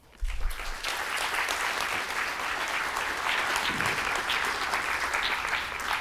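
An audience at a cosmology lecture breaks into sustained applause welcoming the physicist Philip Lubin, a dense even clatter of many hands that swells up quickly and holds steady throughout.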